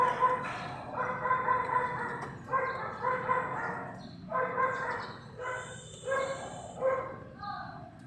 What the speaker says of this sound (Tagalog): Mga asong nagtatahulan.